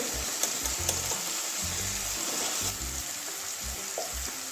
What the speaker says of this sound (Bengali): এই যে টমেটোগুলো তো গলে গেছে, তাও আর একটু নাড়িয়ে নিচ্ছি।